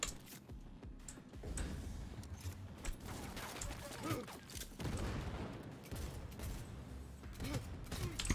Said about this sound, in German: das Ding explodiert nämlich gleich